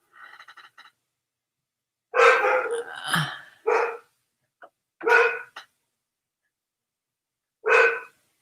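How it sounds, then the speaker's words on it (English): A dog barks nearby in separate bursts, a few quick yips followed by several louder barks spaced a second or two apart, with silence between. "just barking at the noises of the trucks out front"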